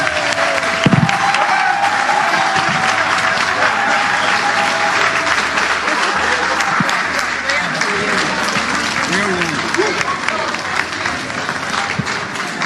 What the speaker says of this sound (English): Let's give Honorable a big hand of applause again.